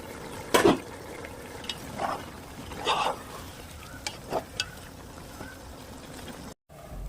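Masala for mandi cooks in a pot while it is stirred, with several short scraping and sizzling bursts over a low, constant simmer.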